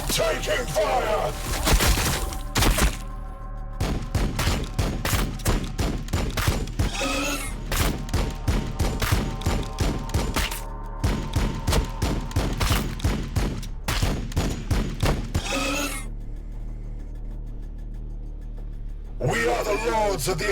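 Gunfire in the Warhammer 40,000 Battlesector video game, long volleys of sharp rapid shots and thudding impacts in repeated bursts with short quiet gaps, loud and close, with game voices speaking over parts of it.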